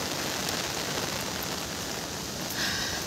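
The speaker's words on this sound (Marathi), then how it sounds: "पाऊस किती जोरात येतोय बघा" Heavy morning rain pours steadily at 6:30 under a full, overcast sky, a dense continuous hiss of drops on surfaces that stays loud and even throughout, with no voices.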